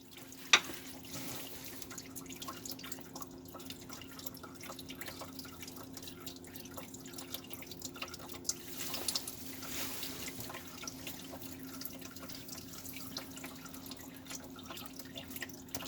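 Coolant dripping as it drains from a 2003 Dodge Caravan during water pump and tensioner pulley work, a faint, steady stream of small drips over a low background hum, with no talking.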